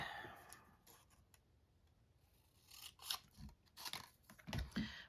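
Scissors cut paper for a craft project, heard as a few crisp, close snips and rustles after a quiet stretch, faint overall.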